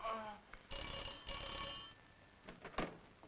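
A telephone bell rings in bursts within a Hindi radio drama, a bright metallic trill up close, with voices briefly heard around it.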